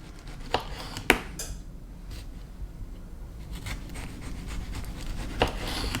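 Knife slicing a tomato into very thin slices on a cutting board, a few sharp isolated cuts and taps close by with soft handling noise between them, no talking.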